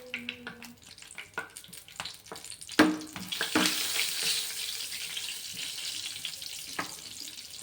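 Cumin, mustard seeds and turmeric sizzling in hot oil for a bottle gourd curry, with crackling pops and stirring clatter building into a steady, close hiss.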